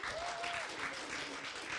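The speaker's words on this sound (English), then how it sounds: "Please applaud if you have not seen the Theater of Public Policy before." An audience claps together in a short burst of applause, a dense patter of many hands filling the room and holding steady, with a voice faintly audible underneath.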